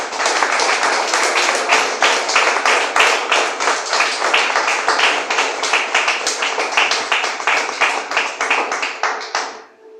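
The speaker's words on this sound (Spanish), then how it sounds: "Brinden un fuerte aplauso." Steady, loud applause from a church congregation, with dense overlapping clapping that continues for nearly ten seconds before tapering off abruptly at the end.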